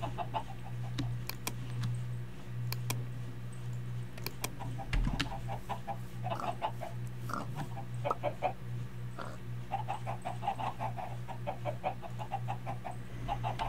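Chickens cluck in the Minecraft Sky Factory 3 modded game, with short clucks and squawks scattered over a steady low hum and faint clicks, moderately close and without talk.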